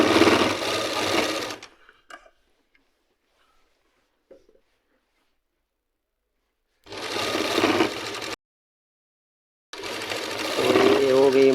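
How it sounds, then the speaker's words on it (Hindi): A sewing machine stitching an Afghani salwar runs in loud bursts, first at the start, then in two more runs toward the end, with quiet pauses and talk between them. "मशीन को आगे पीछे चलाना होता है"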